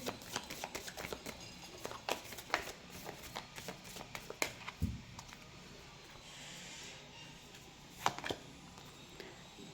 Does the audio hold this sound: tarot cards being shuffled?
yes